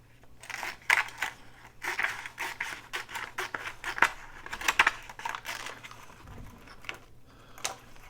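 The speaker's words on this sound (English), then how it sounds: "I'm going to need to trim this side off a little" Scissors trim the side of a cardboard Kleenex box cover for a handmade travelers notebook, giving a series of close, crisp snips and papery cuts in an irregular rhythm, with no talking.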